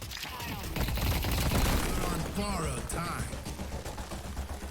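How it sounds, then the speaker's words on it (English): An enemy's gunfire in a video game crackles as a dense, continuous fusillade of rapid shots, loud and busy, with other game noise underneath. "She's shooting me."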